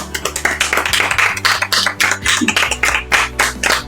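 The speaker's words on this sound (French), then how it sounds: "Bon, on peut applaudir." A small group claps in applause during a French podcast recording, with sharp, dense, irregular hand claps sounding close and loud throughout, over a low steady hum.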